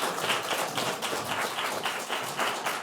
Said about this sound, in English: a round of applause for our finalists, Bex Grayzel-Ward and Lande Watson